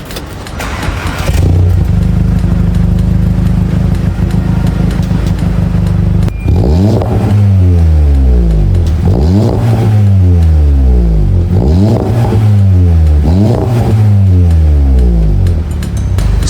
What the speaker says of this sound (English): let's hear how this Golf 7 GTI sounds.